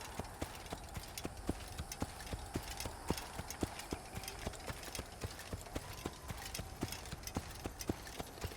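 Steady rhythmic clip-clop of horse hooves galloping at an even pace in the video game Assassin's Creed, with a low engine-like rumble beneath and no talking.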